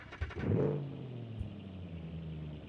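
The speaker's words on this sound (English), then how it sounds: "Sounds like a modern car starting up for some reason, but the idle sounds good." A late-1960s muscle car in BeamNG.drive cranks with a few quick starter pulses, catches with a short rev, then settles into a steady, low, rumbling idle that carries on to the end.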